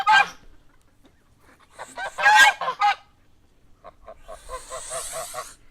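A goose gives a few separate honks, then a quicker run of nasal honks near the end, close and fairly loud with quiet gaps between them.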